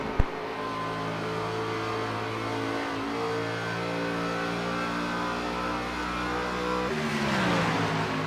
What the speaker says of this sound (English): They're going to be drag racing down here at Long Pond straight away